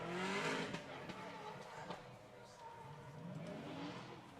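Supercharged LS-engined Nissan 350Z drift car at a drift championship qualifier, a revving engine with tyre noise rising and falling at a distance, under commentary.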